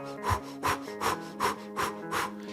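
A voice imitates panting breath through a half-open mouth, with six evenly spaced rasping huffs, close and soft, and no words.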